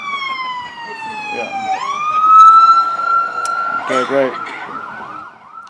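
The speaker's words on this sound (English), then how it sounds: "Just going to let this ambulance go by and then we'll continue just so y'all can hear." An ambulance siren wails past at a street-side ceremony, its long rising and falling tones sliding in pitch as it goes by, then shifting to a rapid yelp before fading, with brief voices over it.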